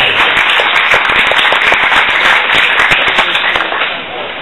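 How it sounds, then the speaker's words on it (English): A crowd at a Florida House District 40 Republican primary debate applauds loudly and continuously, a thick wash of clapping that fades slightly toward the end. "Another round of applause, too."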